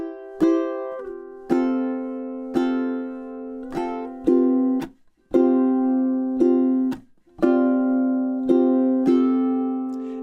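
A chorus is played on ukulele as a clean run of plucked chords, each struck note ringing and decaying with short gaps between phrases. It is close, solo and moderately loud, with no voice.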